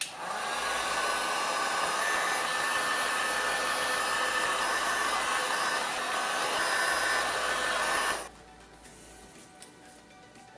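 A heat gun blows a loud, steady roar while shrinking heat-shrink tubing over a wire connection on a 2nd gen Toyota Tacoma off-road bumper, then cuts off abruptly near the end.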